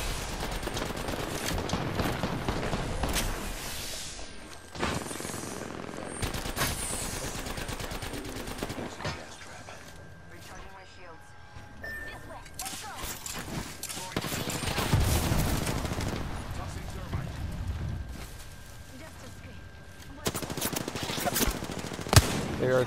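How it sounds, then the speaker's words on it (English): Bursts of automatic gunfire and rapid shots from an Apex Legends match, some close and loud, others distant, coming in clusters with lulls between, while players talk over the action. "Watch for that team shooting at us."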